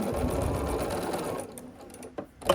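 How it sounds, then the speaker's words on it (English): A sewing machine stitching a fabric square laid on a rectangle, sewing diagonally from corner to corner. The motor runs in a loud steady buzzing whir, then stops, leaving a few faint clicks and handling sounds. "we're going to sew across this diagonal here from point to point"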